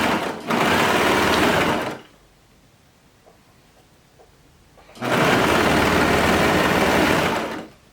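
A sewing machine runs in two loud, steady bursts while stitching the waistband of skirted bummies, with a quiet pause between them.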